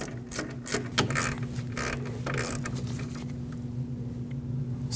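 A caliper pin bolt on a Lexus IS250 brake is tightened with a ratchet, giving quick bursts of close, crisp clicking. Short pauses break the bursts, and a steady low hum sits underneath.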